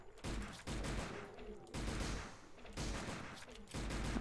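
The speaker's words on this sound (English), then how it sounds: "Shoot! With my machine gun pistol." A machine gun pistol fires in Silent Hill: The Arcade in several sustained rapid-fire volleys separated by brief pauses, with a low game soundtrack underneath.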